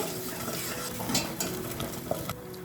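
Masala being stirred in a pan over a medium flame while cooking an avarekalu dish: a steady close sizzle with continuous scraping and stirring, and no talking.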